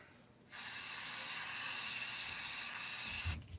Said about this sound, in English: You want a little bit of brake cleaner and make sure there's no oil in there.